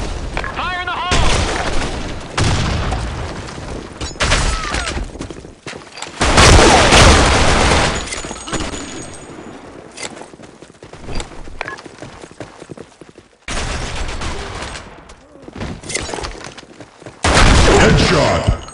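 Grenade blasts and bursts of gunfire in the online shooter BlackShot, on the Sand Storm II map, with loud booming explosions and rattling shots coming in several heavy waves separated by quieter gaps, and game voice callouts in between.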